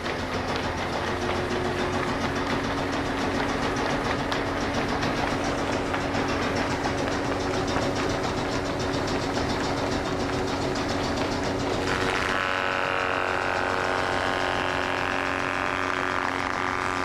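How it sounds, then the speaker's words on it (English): Steam-driven E.L. Gleason joiner from circa 1875, made in Philadelphia, running in a steam woodworking shop: a steady, loud mechanical drone with rhythmic clatter, its tone shifting partway through as the governor engages and a higher whine rises. "You can hear the governor kick in."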